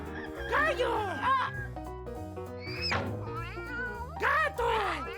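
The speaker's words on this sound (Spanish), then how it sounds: "¡Gato!" A cat meows several times over steady children's song music, short wavering calls near the start, middle and end of the passage, clear and close.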